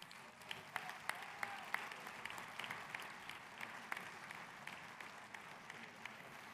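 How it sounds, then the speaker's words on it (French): Faint, steady applause from a congress hall audience greeting the arriving newspaper team, with scattered sharper claps standing out over a continuous wash for several seconds. "vous pouvez les applaudir, s'il vous plaît."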